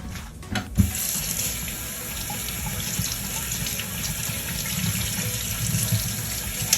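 Tap water runs steadily into a kitchen sink as raw shrimp are rinsed, a continuous close splashing hiss with a brief clatter near the start.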